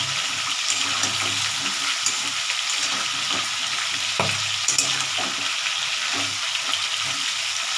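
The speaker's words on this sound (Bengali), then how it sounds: "এবার একটু নাড়াচাড়া করে নিই আমি।" Sweet pumpkin pieces stirred in a hot pan as they fry, a steady close sizzle broken by scraping and clattering strokes of the spoon throughout.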